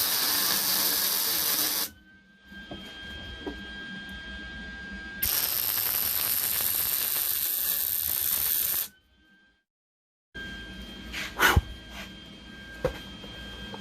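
A welder runs short beads on the front frame rail of a 1969 Mustang fastback, a loud steady crackling hiss in two long bursts separated by quiet pauses, with a final burst that spits and pops.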